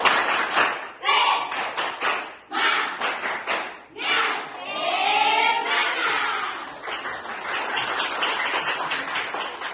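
Schoolchildren in a classroom perform a rhythmic clapping chant, a burst of patterned group claps mixed with chanted voices and shouts, loud and close, running throughout.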